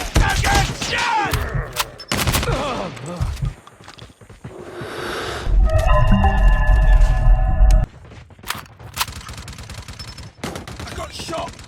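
Sharp pistol gunshots crack out in a tense combat exercise, several separate reports mixed with shouting voices, loud and close with a sustained metallic ringing tone in the middle.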